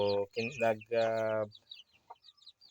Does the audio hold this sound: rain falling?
no